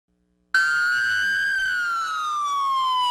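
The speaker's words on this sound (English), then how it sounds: "The sound of 100 police sirens took over the main drag through Rolla" Police sirens start abruptly, with many units, and wail loud and steady along a main street in Rolla, the tone slowly sliding downward.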